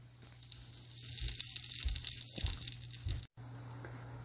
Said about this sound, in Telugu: దాని బటర్ అన్నా ఆయిల్ అన్నా దాని మీద let it cook. Slow medium flame మీద కుక్ చేయాలి